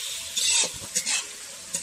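Garlic, ginger and green chili frying and being stirred in a pan for a desi chicken masala, with soft sizzling and a few louder scraping stirs, close by and without talk.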